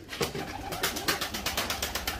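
Pigeons kept as Turkish play birds coo softly in a loft, a steady repeating pulsing coo at moderate distance with faint background noise.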